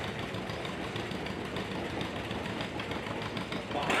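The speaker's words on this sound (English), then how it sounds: "Here's a 1954 John Deere 70." A 1954 John Deere 70 tractor engine runs nearby at a show, a steady chugging, knocking mechanical rumble that holds evenly throughout and swells slightly at the end.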